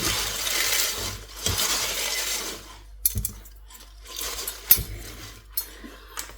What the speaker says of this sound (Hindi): खनक सुनो आप इस पालक की।